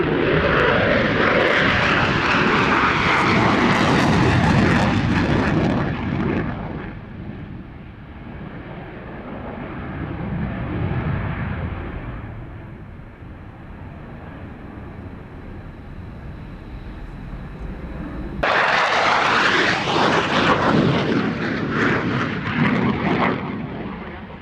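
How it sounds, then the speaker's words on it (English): Belgian Air Force F-16 fighter jet in a display flight, a loud roaring pass that fades to a distant rumble, then a sudden powerful blast of engine noise returning close by. "The Belgians certainly do know how to fly their F-16s"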